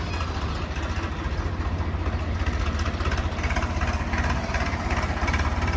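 A tractor engine idles steadily nearby with a low, even throbbing rumble that continues throughout, with no voices.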